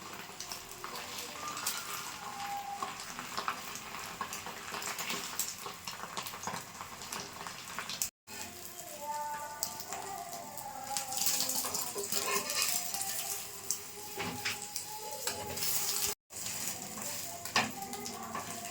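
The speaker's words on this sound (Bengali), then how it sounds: "এই ডিম টোস্টটা দেখেন কত সুন্দর মতো ভাজা হয়ে গেছে" Egg-dipped bread toast frying in a pan, a steady soft sizzle with occasional scraping and clinks of a spatula, no talking.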